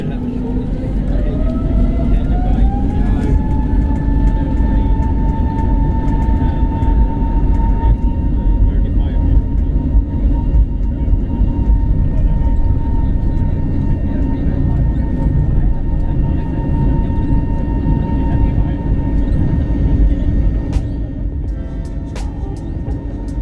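An SAS airliner taking off from the runway: a loud, steady jet roar throughout, with a whine that climbs in pitch over the first few seconds and then holds level.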